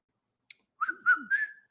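A man with facial paralysis whistles alone in a quiet room. After a faint click come three short, slightly wavering notes that each climb a little higher than the last.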